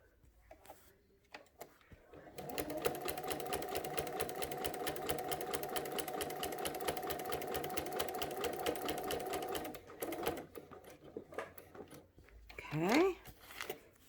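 A sewing machine stitches a quilted placemat in a steady, fast whir that runs for several seconds before stopping, with soft handling noises and a brief voice around it.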